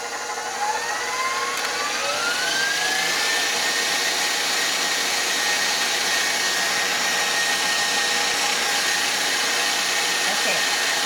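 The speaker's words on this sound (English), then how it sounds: "I'm just going to whisk this on high since there's so little." A steady high-pitched electric mixer with a whisk attachment whips a small amount of cream on high speed, a loud continuous whine and whir, close by.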